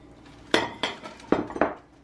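Ceramic plates and bowls are handled and set down, giving four sharp, close clinks in quick succession against a quiet room.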